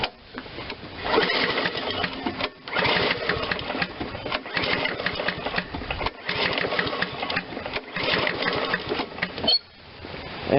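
A discarded MTD 22-inch mower with the choke on gets several hard pull-cord tugs, each a few seconds of rasping, sputtering cranking broken by brief pauses, and the engine never catches and runs.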